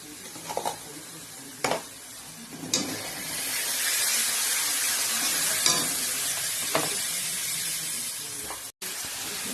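Onion fries with yogurt and ginger paste in a pan, a steady close sizzle and hiss with a few spoon stirs and utensil clinks early on, no talking.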